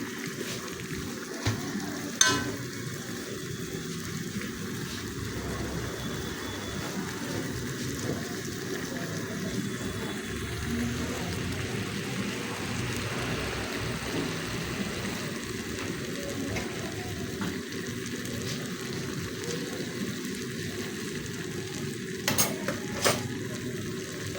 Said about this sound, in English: So you keep stirring.